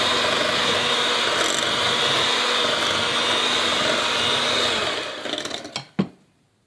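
An electric mixer whips butter for German chocolate cake batter with a loud, steady whirring drone for about five seconds, then winds down and stops with a couple of sharp clunks.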